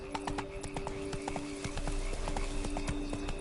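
Hooves of a horse clip-clop at a gallop in The Witcher 3, a quick steady rhythm of close, sharp beats over a game's low steady background hum.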